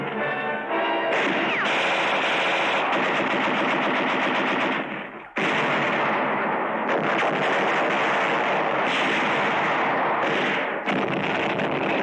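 Sustained, dense battle gunfire from a World War II fight on Los Negros, with continuous rattling fire and heavy reports filling the whole stretch, near and loud, broken by one brief dip midway.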